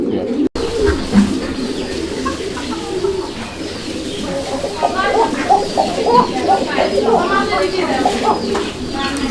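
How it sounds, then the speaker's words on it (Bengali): Repeated low, throaty coos of a koka pigeon in steady phrases, fairly close, with chirps and background chatter around them. "কোকার ডাকটা দেখেন প্রচন্ড ডাকে ডাকটা শোনায় দেওয়ার চেষ্টা করলাম"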